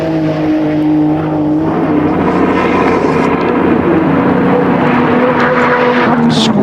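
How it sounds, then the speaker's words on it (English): A 1991 Nissan GT-R R32 Group A touring car accelerating hard around Bathurst, a loud continuous engine roar with rising and shifting tones, close and steady throughout. "You can really hear the way the car puts its power to the road."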